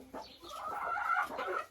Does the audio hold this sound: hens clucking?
yes